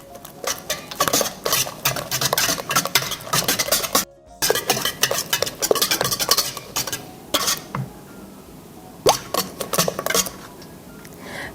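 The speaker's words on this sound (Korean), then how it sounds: "이 물을 사용해서 휘핑을 해주면 훨씬 더 잘 녹고 거품이 잘 올라오기 때문에 따뜻한 물을 사용해서 거품기로 섞어주세요." Eggs are whisked with a wire whisk in warm water for a brownie batter, giving quick, rapid clinking strokes against a bowl, close and busy, with a brief pause and slower scattered taps near the end.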